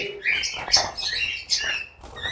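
Red opaline lovebirds chirp in an aviary with bright, overlapping high-pitched calls and squawks in quick succession, fairly close and continuous for a couple of seconds.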